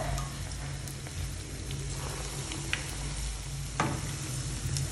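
Wheat flour and banana batter frying in oil over a medium flame, with a steady close sizzle and crackle running throughout and a couple of brief sharper pops and stirring scrapes.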